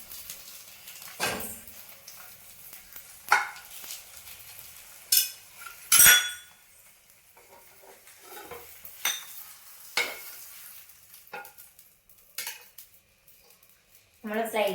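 A poomutta egg dish is stirred and flipped in a pan with scattered scraping and clanking of a metal utensil, including one sharp loud clank, while quiet frying hiss stays faint underneath.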